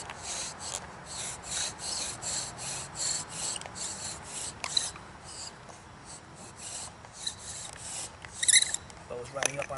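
A wooden bow drill spindle grinds against a fireboard to make dust, a rhythmic rasping rub with back-and-forth strokes repeating close and steady.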